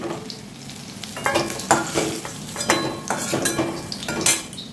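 Potatoes fry in hot oil with a steady sizzle, broken by repeated scraping and clinking of a utensil stirring them in the pan.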